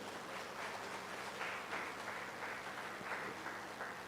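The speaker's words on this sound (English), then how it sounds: "please join me to give one round of applause to Professor Kabilan" Conference audience applauding a professor after a presentation at an international English language teaching conference, a steady wash of many hands clapping at moderate distance for about four seconds.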